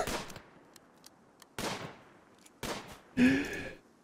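Gunfire in the RimWorld video game: three separate sharp shots spaced about a second apart, each with a short decaying tail, followed by a brighter, louder burst with a ringing tone, with no talk.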